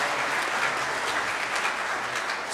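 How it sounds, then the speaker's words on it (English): An audience applauds the graduating class of 2023 at a career center awards night, with steady, dense clapping that fills the room continuously. "why don't we have a round of applause for the class of 2023?"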